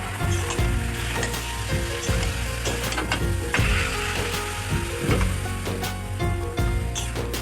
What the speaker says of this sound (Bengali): চিকেনটা আর পেঁয়াজটা একসাথে ভেজে নেবো